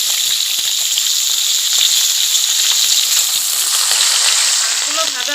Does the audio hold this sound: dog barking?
no